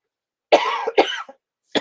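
Close, harsh coughing from a woman after drinking lemonade the wrong way, two quick coughs followed by a short third burst, with silence between.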